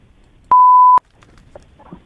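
A single clean electronic beep lasting about half a second sounds from an answering-machine style prompt, loud and steady, followed by faint background noise.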